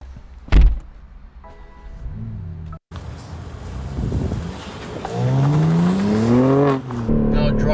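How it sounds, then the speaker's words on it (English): A BMW M4 Competition xDrive convertible starts with a door thunk and clicks, then its engine rises through revs in several accelerating sweeps, loud and close from inside the car. "Now driving the BMW M4 convertible xDrive competition."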